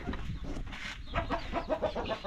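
Farm chickens clucking near a rice field, a series of short, close clucks and soft squawks in an irregular rhythm over low outdoor background noise, with no talking.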